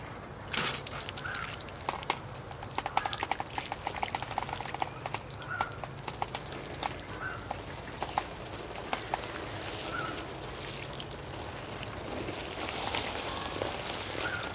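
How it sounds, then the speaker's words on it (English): Water sprays steadily over a soapy bonsai tree to rinse it, a continuous soft hiss and patter of droplets that stays fairly faint throughout, with no voices. "All right, here I go with the rinse cycle."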